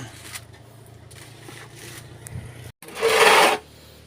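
Dry sawdust, rice bran and lime are stirred together by hand as oyster mushroom growing medium, making soft rasping scrapes that end in one louder, longer rustling scrape near the close.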